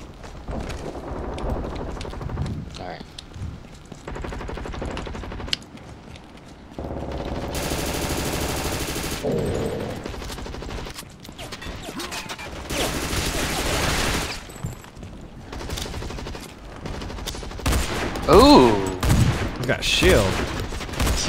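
Gunfire in a zombie shooter video game: bursts of automatic fire and scattered shots come in loud stretches over a busy game soundscape, with game noises between them.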